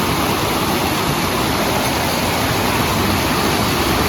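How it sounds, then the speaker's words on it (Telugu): A swollen, muddy Indian river rushes with a strong current, a loud, steady roar of churning water that fills the whole stretch without a break and with no voices. "కానీ ఇప్పుడు ఈ వాటర్ ఫోర్స్ మనం వెళ్ళలేం."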